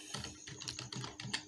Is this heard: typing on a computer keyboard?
yes